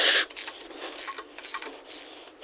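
Rapid metallic clicking of a ratchet wrench working a tight cylinder head bolt on a 6.0 Powerstroke diesel engine, a series of close, sharp ticks in uneven bursts with no talking.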